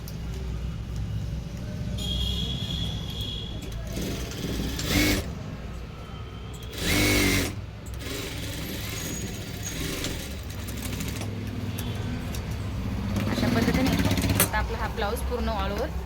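An electric sewing machine stitches a tucked blouse, a continuous close mechanical whir with a couple of louder bursts and short pauses as the fabric is handled.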